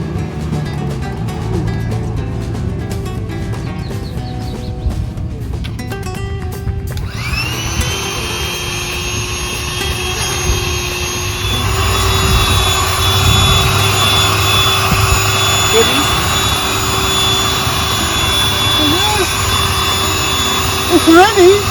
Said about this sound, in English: is the air pump. This comes with the bed.